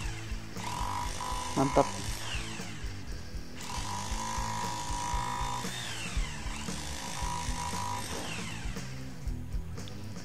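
A DOLIZ rotary hammer rattles and grinds steadily into K300 concrete, loud and close, while someone says a word over the drilling.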